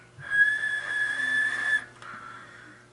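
A steady, high whistle tone sits in scanner radio audio for nearly two seconds over faint hiss, then cuts off and leaves quieter static.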